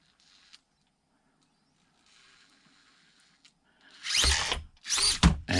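Brushless motor on a Traxxas TRX-4M or Axial SCX24 micro RC crawler whirs faintly at low speed, then bursts into several loud, whining mechanical drill-like spurts near the end.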